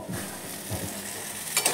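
Banana flower (mocha) stir-fried in a pan: a soft, steady sizzle with a few quiet scraping stirs, faint and close, with no voices.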